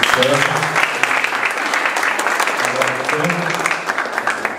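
Audience applause at a coffee certification symposium in Baturité, a steady dense patter that fills the whole stretch, with a voice speaking over it at times.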